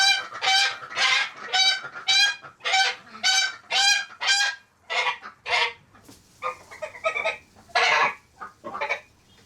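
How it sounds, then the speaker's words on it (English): A goose honks repeatedly in a coop yard, loud and close, in a rapid series of harsh calls broken by short pauses, with a few softer clucking notes from nearby fowl mixed in. "So now the goose can rampage around all it wants in the front of the coop"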